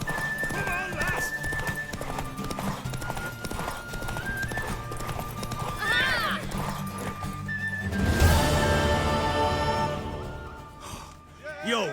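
A mare gallops in The Witcher 3: Wild Hunt, hooves clip-clopping loud and fast with whinnies breaking in, while characters talk over the race.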